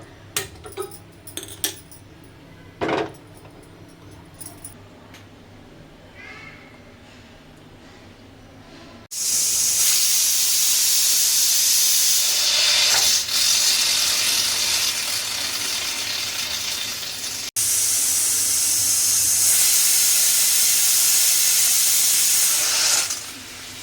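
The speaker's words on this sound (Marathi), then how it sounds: "बघा इथे कुकरच्या 3 ते 4 शिट्ट्या झालेल्या आहेत।" A pressure cooker boiling potatoes on the stove lets out a loud, sustained hissing whistle of steam, preceded by quieter kitchen clatter and interrupted briefly midway before resuming just as strongly.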